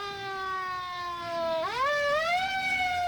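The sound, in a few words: police siren intro of a song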